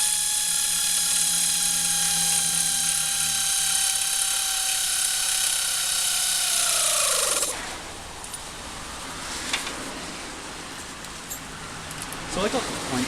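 A tool whines steadily with a rising-pitched mechanical drone while fastening engine parts on a restored vehicle, then cuts off abruptly partway through, leaving quieter workshop clatter and faint handling noises close by.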